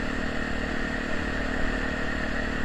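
A Honda Tornado motorcycle fitted with an adapted Protork exhaust taken from an XR200 idles steadily, a low, even engine drone with a faint clattering edge and no speech.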